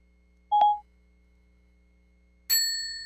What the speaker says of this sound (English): Got to get the bell going this morning.